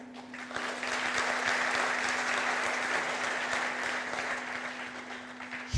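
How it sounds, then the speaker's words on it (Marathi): Girls in an audience clap together in a steady, fairly soft burst of applause lasting several seconds, with a constant low electrical hum running underneath. "तर पोरीने टाळ्या वाजवल्या"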